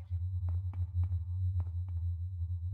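Electronic droid sounds in the video game System Shock 2: a series of short, regularly spaced chirping blips over a steady low mechanical hum, with no talking.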